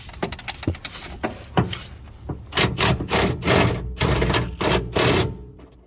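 Top nuts being removed from the rear BC Racing coilover of a 2008 Mitsubishi Evolution X, heard as close, quick ratchet clicking in bursts with some scraping and handling noise, no talking.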